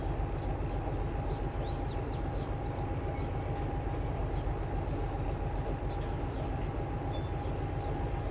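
A freight train shunts wagons for unloading, a continuous loud low rumble with a steady tonal whine and faint high squeals over the top, unchanging throughout.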